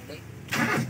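A car engine cranks on its starter during distributor repair work, a loud broadband whirring burst that begins halfway through and continues to the end, with a faint voice before it.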